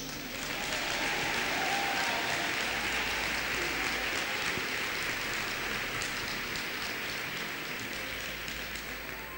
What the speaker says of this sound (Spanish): ¿Cuántos aplauden a Yeshua?